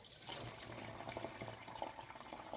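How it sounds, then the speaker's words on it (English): Cinnamon lemon drink poured steadily into a bottle, a continuous close splashing trickle of liquid running without pause. "So just keep doing that until you fill the bottle up, or use a funnel."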